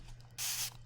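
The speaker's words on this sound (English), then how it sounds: "I think I'm going to spray more water on my paper." Water sprayed from a spray bottle onto watercolor paper, one short close hiss of mist lasting about a quarter second amid quiet surroundings.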